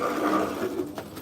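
Small RC car wheels rolling over metal in an outdoor run, a continuous rattling, buzzing clatter close by, steady for about a second before fading slightly.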